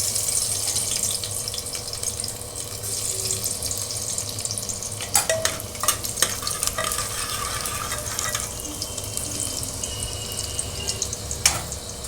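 Garlic frying in a little oil inside a pressure cooker for Agri-style spicy chicken: a steady, close sizzle with a few sharp spoon scrapes and clinks in the middle and toward the end, no voices.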